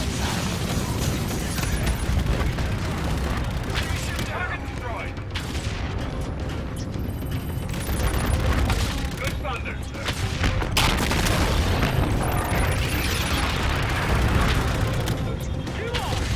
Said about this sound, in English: the main machine guns, that's me doing that